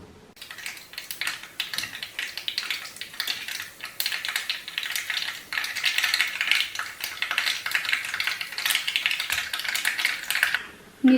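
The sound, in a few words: mustard seeds spluttering in hot coconut oil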